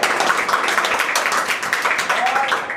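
A group claps together at a daily Ramayana recitation at a temple in Raghogarh, Madhya Pradesh, producing a brief, dense patter of many hands close by, with voices mixed in.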